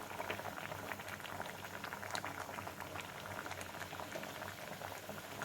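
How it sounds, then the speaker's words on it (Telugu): Village-style fish curry (pulusu) boiling in a pot as fish pieces go in, a continuous soft bubbling and simmering with faint liquid patter throughout, no voices. "ఇప్పుడు ఇందులో చేపల ముక్కలు యాడ్ చేసుకుంటాము."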